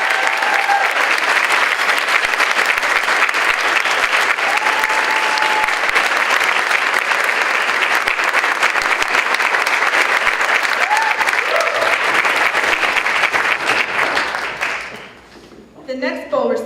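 Dense, sustained audience applause fills a banquet hall at a college awards banquet, loud and steady for about fifteen seconds before tapering off, with a few voices speaking underneath as it fades.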